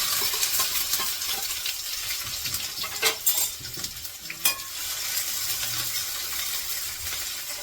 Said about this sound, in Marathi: तेल घातलंय ते गरम झालंय भरपूर हे बघा जिरं घातलंय आणि हा कांदा कापून ठेवलाय कांदा घातलाय